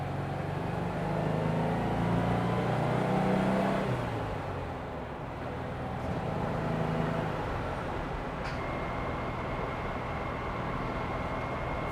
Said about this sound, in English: Fourth gear does whine just a little bit.